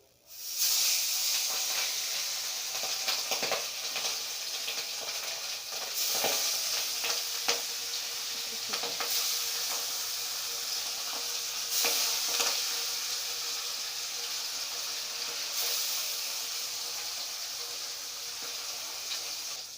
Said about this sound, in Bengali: মাছগুলোকে ভেজে নিই।